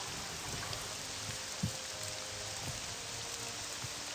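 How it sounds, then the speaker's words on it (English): Steady hiss of rain in the video game Morrowind, falling continuously with a few faint drips and soft knocks, heard alone at moderate volume. "It's still bloody raining in this region."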